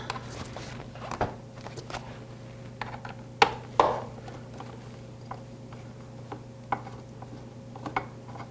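Hand ratchet working on a bolt of a Yamaha R6 motorcycle during an oil change: sparse quiet clicks and metallic knocks, with two sharper taps near the middle, over a steady low hum.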